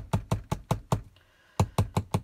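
A small glue bottle, just refilled, is knocked down against a tabletop: about nine sharp, close taps in a quick rhythm, with a short pause after the fifth.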